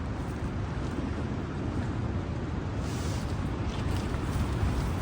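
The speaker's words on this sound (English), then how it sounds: "When you're inside the tent, you can really hear the wind gusts." Strong wind gusts buffeting a Lanshan 2 tent at night, heard from inside as a continuous low rushing roar that swells slightly in places, steady and fairly loud, with no voices.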